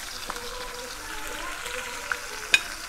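Chopped onion and ginger paste frying in a pan for a kawoi fish curry, a steady soft sizzle with a few small pops and light stirring clicks.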